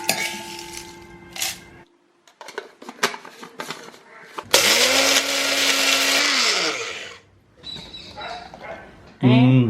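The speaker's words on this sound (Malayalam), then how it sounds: "നമുക്കിത് പൊടിക്കേണ്ട മിക്സിയുടെ ജാറിലേക്ക് ഇട്ടിട്ട് പൊടിച്ചെടുക്കാം" A kitchen mixer grinder grinds cooled roasted masala into powder in one loud, whirring burst of a few seconds. Talk, clattering utensils and a barking dog come before and after it.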